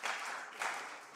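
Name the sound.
audience applause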